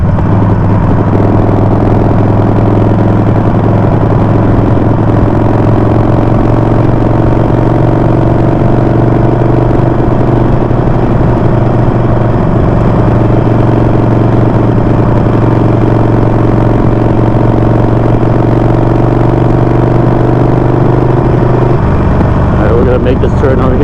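A Harley-Davidson Sportster engine pulling in third gear, a steady, loud low rumble with a droning hum throughout that cuts off shortly before the end, heard on a ride with a voice in the background.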